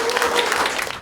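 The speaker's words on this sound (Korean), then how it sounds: "박수 한번 부탁드리겠습니다." Applause from the audience at a Democratic Party Yongin city council candidates' speech event, a dense steady clatter of many hands filling the whole moment without a break.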